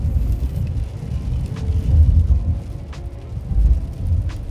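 A 2024 Chevy 2500 HD with the 6.6L gas engine and 10-speed Allison transmission tows a load downhill on cruise control, a continuous low road rumble and engine drone with wind buffeting, swelling and easing, no talk.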